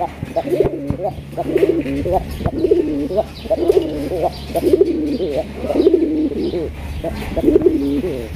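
Domestic pigeons from a loft of local and foreign breeds coo in repeated rolling phrases, close and fairly loud, over a steady low background hum.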